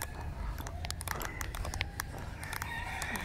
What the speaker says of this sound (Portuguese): aqui tem galinha de Angola, tem galo carijó